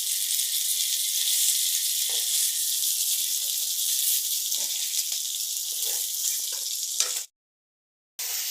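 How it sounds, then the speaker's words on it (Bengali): Katla fish fries in hot oil with an even, close hissing sizzle and a few soft bumps. A sharp knock comes just before a brief silence, then the sizzle picks up again at the end. "বাকি মাছগুলো আমার ভাজা হয়ে গেছে তুলে নিচ্ছি"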